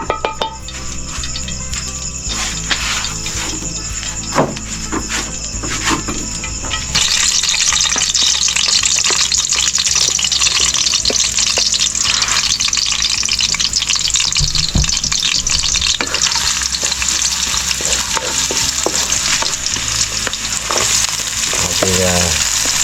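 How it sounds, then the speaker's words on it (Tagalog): Onions and aromatics sautéing in hot cooking oil for a snake meal, a loud, steady sizzle close by that jumps in intensity partway through, with stirring clatter and occasional pan and utensil knocks. "Igigisa na natin ang mantika."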